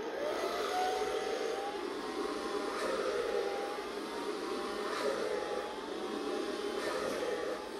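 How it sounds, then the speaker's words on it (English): A hair dryer blows with a steady, loud whooshing roar and a faint whine, running continuously without pause, close up. "I'm gonna take my blow dryer."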